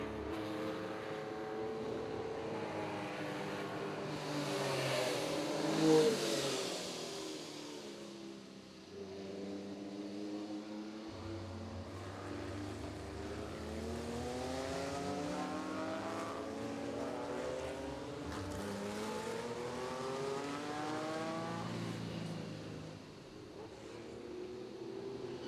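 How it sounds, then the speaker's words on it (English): Porsche race cars in a vintage race, engines droning steadily with rising and falling pitch as they pass, one swell peaking near the middle, continuous loud motor roar throughout. "So running fifth right now is Dwayne Smith in car number 77"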